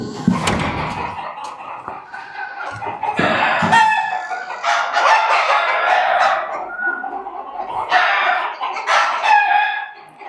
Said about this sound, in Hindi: तो फ्रेंड्स, ये सेक्शन जो है मुर्गियों का है